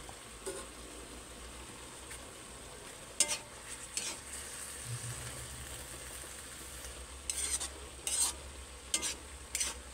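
Banana heart escabeche cooks in a pan, a soft continuous sizzle with scattered stirring scrapes and clinks of a utensil against the pan, fairly quiet and with no voices.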